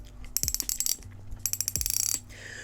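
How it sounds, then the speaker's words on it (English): Frostbite Diesel ice fishing reel drag clicking loudly in rapid ratcheting bursts, two quick runs of close, sharp clicks separated by a brief pause, alone with no voices. "It has a really loud drag"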